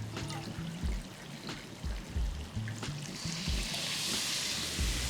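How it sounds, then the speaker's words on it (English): Water poured into a hot stir-fry pan of black beans, a trickling splash building into a brighter hiss toward the end, mixed with a few stirring knocks, close and fairly quiet. "Now we need some water in here."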